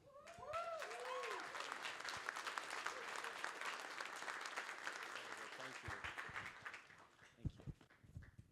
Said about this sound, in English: So a round of applause for Rico.